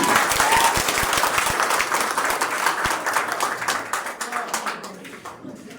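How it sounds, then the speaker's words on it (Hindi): A school hall audience claps loudly for a district science topper at an intermediate toppers' honour ceremony: a dense, sustained round of applause that carries on for the whole stretch and thins slightly toward the end. "एक बार जोरदार ताली से स्वागत किया जाए।"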